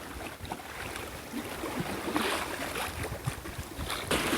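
Strong, near typhoon-level wind at the seaside during lure fishing for rockfish, a continuous rough roar that gusts louder toward the end, with faint water noise underneath and no speech.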